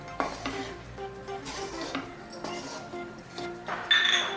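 A spoon stirs sautéing food around a pan, giving repeated scraping and clinking strokes at an irregular rhythm with a soft sizzle underneath, close by, and a voice talks over it at times.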